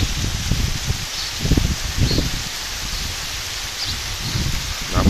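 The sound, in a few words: heavy rain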